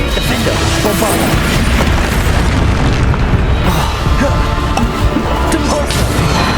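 Spell blasts in the Hogwarts Legacy video game, including the Bombarda explosion spell, boom densely and continuously in a loud, chaotic combat mix of crashing impacts with little pause.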